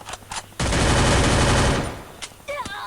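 Gunfire in the mobile battle royale game Free Fire: a long, loud, dense burst of automatic fire lasting over a second, with a few shorter shots and game sound effects around it.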